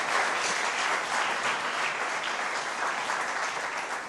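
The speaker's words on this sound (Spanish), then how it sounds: "quiero que levante un aplauso al Señor grande" A church congregation applauds in praise at a London service, a dense, steady wash of many hands clapping that holds loud and even for the whole stretch, with no voices standing out.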